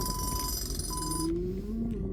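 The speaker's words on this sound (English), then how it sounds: "my phone goes off. I need to start putting it on silent." A mobile phone rings on a boat while mooring ropes are being handled, a steady electronic ringtone over wind and background noise that cuts off partway through, with no talking.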